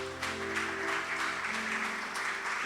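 Church congregation applauding together after the preacher calls for praise, a steady wash of clapping over sustained organ or keyboard tones, continuous and moderately distant for the whole stretch.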